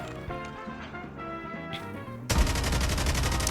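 Rapid automatic gunfire at a practice target in Call of Duty Mobile, bursting in loud and dense after a quieter stretch of game sounds.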